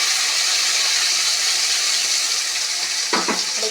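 Onion paste frying together with browned onions hisses in a loud, steady, close sizzle, with a short burst of stirring scrapes near the end and no voices.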